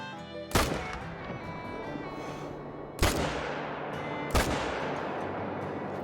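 Three loud, sharp M1 rifle shots ring out in the hunting game Call of the Wild, evenly spaced, each with a long booming echo that tails off across open terrain.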